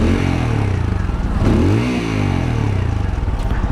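A TVS Apache 200 BS6 motorcycle engine idles with a steady low rumbling mechanical clatter, loud and close, with some revving swell midway, on a noisy street.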